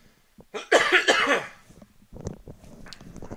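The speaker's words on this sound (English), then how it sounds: "Ooh, good cleansing cough." A single cough heard in the middle of gameplay commentary for the roguelike Dungeons of Dredmor. A person's voice sounds on either side of it.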